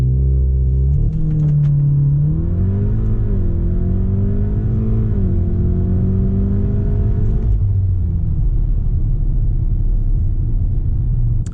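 A 2014 Volkswagen Golf R MK7 accelerating hard from 0 to 100 km/h, its engine droning loud and close as the pitch climbs through gears, then dropping back to a rumbling idle-like roar.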